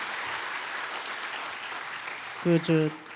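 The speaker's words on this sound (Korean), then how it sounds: "Let's give this glorious applause to our Lord God who will bless you and who will save 237 nations." A church gathering audience applauds in a steady, even wash of clapping, moderately loud, with a short voice breaking in near the end.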